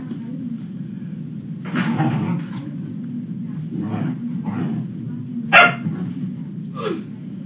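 Several dogs barking inside a house, scattered sharp barks and yips over a steady low hum, some louder and closer than others.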